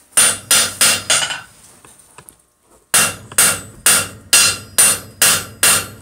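Hammer blows on hot steel at an anvil during vice forging, struck in two bursts of regular ringing hits, four quick strikes, a short pause, then a steady run of about eight loud, close impacts.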